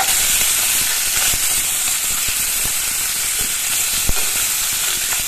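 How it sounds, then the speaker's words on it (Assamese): Puthi fish, whole with heads on, fry in hot oil in a kadai, giving a steady, close sizzle and hiss throughout with a few small crackling pops. "মাছখিনি মই প্ৰথমতে ফ্ৰাই কৰি লওঁ।"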